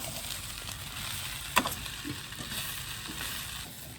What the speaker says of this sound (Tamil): 2 நிமிஷம் அப்படியே அந்த எண்ணெயிலே வதங்கட்டும், அவியட்டும்